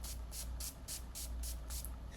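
Numb 520 numbing spray is sprayed onto skin in seven quick, even bursts, each a crisp hiss spaced closely after the last, heard close up with no talking.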